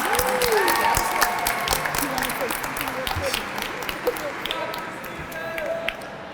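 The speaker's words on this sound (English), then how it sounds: "Give him an applause." Applause from an audience at a Hispanic Heritage Month opening ceremony, with steady clapping that tapers off over several seconds, plus a few sharp taps and faint murmurs.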